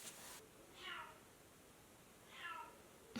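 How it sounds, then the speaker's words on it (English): A house cat behind a closed door gives two drawn-out meows about a second and a half apart, faint and somewhat distant in a quiet room. "My cat."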